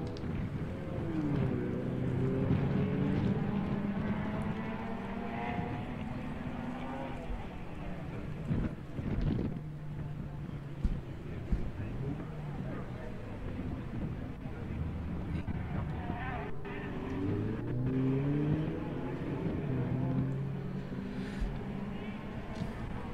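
Toyota 86 engine revving and shifting as it drives a gymkhana course at a motor club event, rising and falling tones heard from a distance under wind buffeting, with commentators talking over it.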